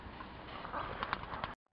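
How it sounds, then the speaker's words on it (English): Collared doves coo softly outdoors in a brief, faint low call amid light background noise, ending abruptly. "Beautiful little collared doves come down as well."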